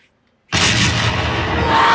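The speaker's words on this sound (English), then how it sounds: "There's been an explosion" A cherry bomb blows up inside a cherry pie: after brief near-silence, a sudden loud explosive blast bursts out and leaves a dense, roaring rumble that lingers without fading.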